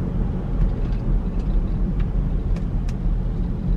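A passing car drives nearby on a road, a steady low rumble of engine and tire noise heard from inside a moving vehicle, continuous and moderately loud with no talking.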